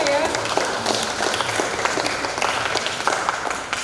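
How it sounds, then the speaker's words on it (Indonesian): Sustained applause from an audience at a school quiz competition final, a dense, even patter of many hands clapping throughout, moderately loud and continuous. "Tepuk tangan bagi Iwan Gurunya ya."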